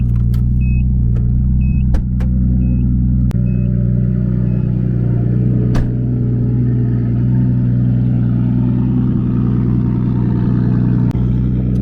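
A 1992 Nissan R32 Skyline GT-R idling with a steady low rumble that is then switched off, heard close up and loud, with a few clicks and knocks over the engine drone.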